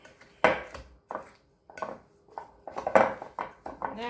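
White sugar being stirred into batter in a clear batter bowl: irregular scraping and clinking of a utensil against the bowl, coming in short bursts with pauses between strokes, close and fairly faint.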